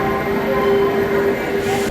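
The 12837 Howrah Puri Superfast Express draws into Kharagpur station, a loud, close rumble of rolling wagons with a steady high brake whine over it, running throughout the short stretch.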